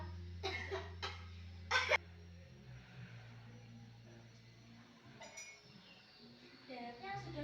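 A patient coughs during an effective-cough exercise, a few short harsh coughs near the start, followed by quieter room sound and a clinician's voice.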